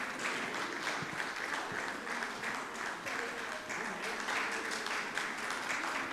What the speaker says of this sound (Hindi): मेरे ख्याल से आप लोग तालियां बजाना शुरू कर दें तो